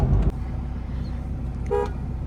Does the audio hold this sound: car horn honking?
yes